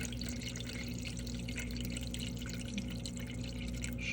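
Water from an aquarium auto top-off system runs steadily into a reef tank, a continuous close trickle and drip with no talking over it.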